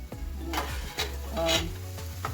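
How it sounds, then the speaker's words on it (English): Onions cook in a pot, stirred with repeated scraping strokes over a steady low sizzle, close and fairly loud with no voices. "I'm going to let the onions cook for about 2 minutes"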